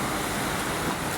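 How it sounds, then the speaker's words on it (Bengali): A car drives through floodwater on a flooded road during heavy rain in Saudi Arabia, producing a continuous broad rushing wash of water and traffic noise, fairly loud and without a break. "দেখেন গাড়িটা যাইতেছে"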